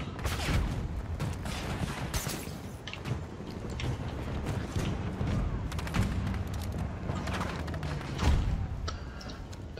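Gunfire rattles through a Battlefield 2042 match on Noshahr Canals in Rush mode, with dense overlapping bursts and thumps that keep up throughout at moderate loudness, along with occasional heavier booms.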